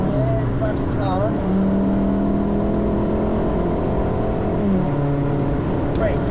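Car lapping the Nurburgring Nordschleife on a trackday, engine close and loud, revs dropping then climbing hard through gear changes, with an instructor's voice talking over it in bursts.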